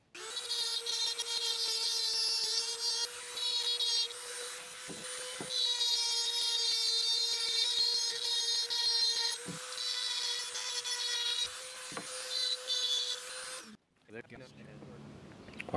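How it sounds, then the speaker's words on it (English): A Dremel with an aluminum oxide grinding stone sharpens the bevel on a splitting maul, giving a loud steady high-pitched whine with scraping grind that rises and falls in passes, then stops near the end. "keep it at that 45 and grind it all the way down until you have a nice wide quarter inch bevel right on there"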